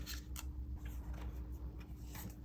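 A tarot card is drawn from a deck in a short run of soft papery swishes and flicks over a steady low hum, with no talking.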